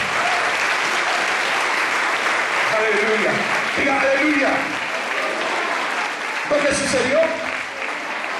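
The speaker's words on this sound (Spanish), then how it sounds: "Yo creo que eso merece un aplauso en esta mañana." A church congregation applauds during a Sunday morning service, a full, continuous round of clapping that runs throughout while a pastor speaks over it in Spanish.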